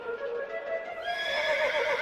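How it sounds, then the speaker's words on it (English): A racehorse whinnies in a long, shrill, wavering neigh that climbs and trembles, close and loud with no talk, used as a documentary sound effect. "with his racehorse, Incitatus."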